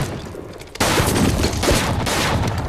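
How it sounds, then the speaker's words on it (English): A film shootout plays out with a sudden, loud burst of gunfire that starts after a quiet moment and keeps going as dense, sustained shots with booming impacts coming from several directions. "They're receiving shots from all sides, upper levels."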